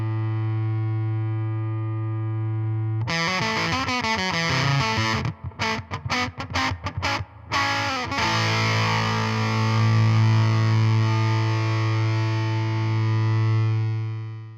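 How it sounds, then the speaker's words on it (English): Electric guitar through a Warm Audio Foxy Tone Box octave fuzz pedal with the octave off, a little amp reverb, and the controls at noon: a loud sustained fuzzy chord, then rapid choppy picked notes, then a long ringing chord fading out. "And this is the fuzz."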